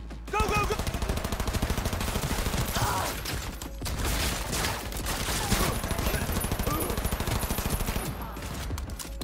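Rapid bursts of SMG or assault rifle fire crackle through a Cyberpunk 2077 firefight. Dense, loud volleys repeat almost without pause, broken by a short lull, with a voice briefly speaking over the shooting.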